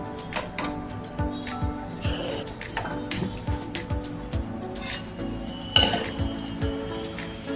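A heavy-bottomed kadhai (wok) set down on a stove: irregular metallic clinks, knocks and scrapes, close by, with no talking.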